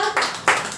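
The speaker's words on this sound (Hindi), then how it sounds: "जोरदार तालियां समारोह के लिए" An audience at a book cafe gathering claps in short loud bursts, three quick surges of applause close by with brief lulls between them.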